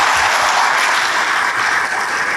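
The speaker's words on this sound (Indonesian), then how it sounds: "Berikan tepuk tangan bagi Tuhan" A church congregation breaks into a dense, loud, sustained round of applause that fills the room evenly from start to finish, with no voices standing out.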